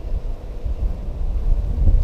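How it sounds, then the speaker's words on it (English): Steady wind rumbles and buffets against the microphone, a low continuous roar with no voices. "It is very windy today"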